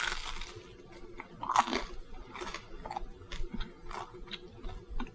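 Crispy homemade focaccia bread crunches loudly and close up under repeated bites and chewing, with no talking.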